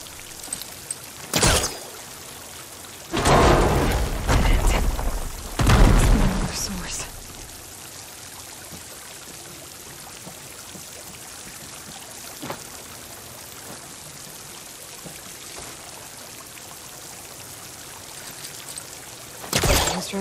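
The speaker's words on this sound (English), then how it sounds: "Water's coming from that vent." Water gushes from a vent in the video game Horizon Forbidden West in several loud pouring bursts of a few seconds each, separated by quieter stretches of a low, steady watery background.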